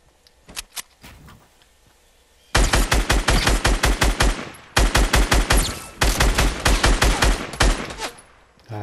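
Video game gunfire comes first as a few scattered shots, then as loud, rapid automatic bursts fired close by, with brief pauses between strings of shots.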